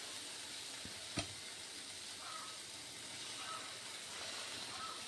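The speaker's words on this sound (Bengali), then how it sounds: "এই অবস্থাতে আমি জল দিয়ে দেব।" Water is poured into fried, oil-releasing masala in a wok for dhaba-style egg curry, giving a faint, low sizzle and hiss with one soft clack early on. No voices are heard.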